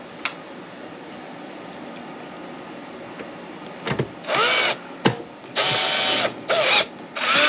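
A power screwdriver drives screws back into the bottom of a portable ice maker: four short, loud whirring bursts up close, separated by brief pauses after a quieter stretch of faint handling.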